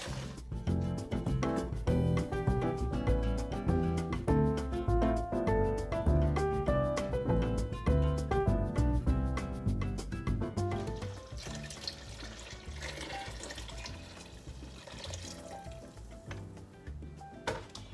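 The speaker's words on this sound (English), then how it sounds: "Now I will get this large pot of broth and I just pour it in here." Homemade vegetable broth pours steadily from a large pot into another in a continuous splashing stream, loud at first and then thinning to a softer trickle toward the end.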